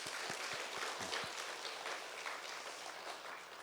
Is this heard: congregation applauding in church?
yes